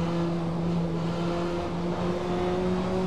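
A car fitted with a motorcycle engine of about 210 horsepower in the Assetto Corsa racing game holds a steady, buzzing engine tone throughout, with no one talking.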